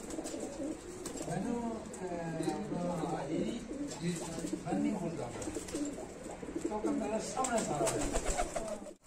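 Pigeons coo softly and continuously, several birds overlapping in low throaty murmurs, with someone talking nearby.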